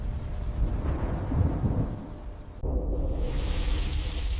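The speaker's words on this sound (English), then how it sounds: "A storm rolls across the savanna. A bolt of pure energy lightning strikes the dead wood." Thunder from a storm over the savanna rolls as a deep, loud rumble, then an abrupt sharp crack of a lightning strike on dead wood gives way to a steady hiss like rain, with no voices.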